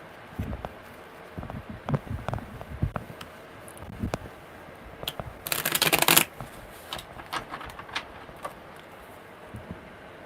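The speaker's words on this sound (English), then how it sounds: "All right, one more good shuffle." A deck of tarot cards riffled in one loud, close shuffling burst of under a second, surrounded by soft handling and rustling with no talk.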